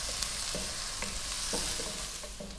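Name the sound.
garlic and ginger sautéing in a pan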